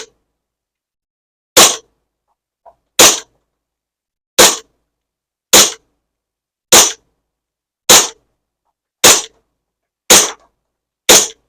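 A SAR9 gas blowback airsoft pistol fires nine sharp, evenly spaced shots at roughly one-second intervals, each a crisp, loud crack with a short tail, and a small click falls between the first two.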